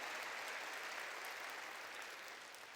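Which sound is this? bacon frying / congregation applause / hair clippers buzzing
congregation applause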